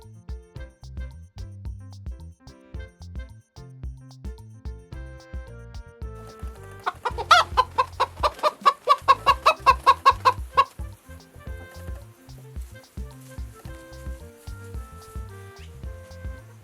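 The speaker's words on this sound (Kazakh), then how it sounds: "Тауық. Тауықтың төлі балапан." A farm chicken clucks in a rapid, rhythmic burst of close, clear calls midway, set over a light beat of background music.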